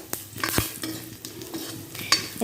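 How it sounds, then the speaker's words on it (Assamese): A spoon stirs mustard seeds and a chili in a pan over a soft sizzle, with several sharp metallic scrapes and clinks against the pan spread through a fairly quiet stretch. "এইখিনি মই এতিয়া এনেদৰে লাৰি দিম"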